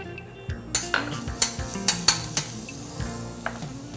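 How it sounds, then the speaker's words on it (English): Risotto being stirred constantly in a pot, with rhythmic spoon knocks and scrapes against the metal over a soft bubbling sizzle, close and fairly loud, no talking. "We don't want the risotto to stick to the pot, so you need to stir it constantly."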